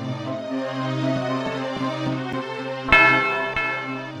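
Doorbell chime in the video game Tales of Rebirth, a bright bell strike ringing out over sustained game background music, with a second softer strike shortly after.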